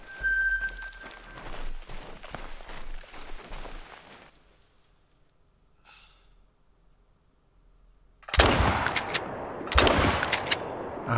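A hunting rifle fires at a dusky grouse in theHunter Call of the Wild: soft rustling and near silence give way to a sudden loud shot, followed by another sharp burst a moment later.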